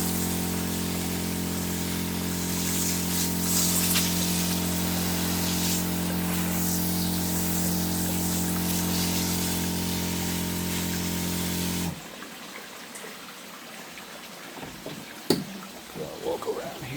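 Broadband hiss of a hose spraying water onto plants, loud and steady with a low pump-like hum for about twelve seconds, then stopping abruptly, leaving quieter outdoor ambience with a few faint knocks.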